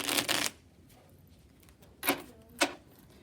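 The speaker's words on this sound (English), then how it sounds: "I'm trying to shuffle them. 2 decks is really big." Two decks of playing cards are shuffled by hand for a game of Trash, with a long riffling burst at the start, then a quiet pause and two short, sharp riffles close by.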